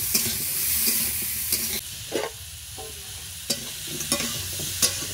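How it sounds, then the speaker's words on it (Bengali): Vegetables for a pumpkin-and-potato curry fry lightly in a pan, giving a soft steady sizzle broken by repeated clicks and scrapes of a spatula stirring, with no talk. "এই সবজিটা খুব বেশি সময় ভাজার দরকার নেই"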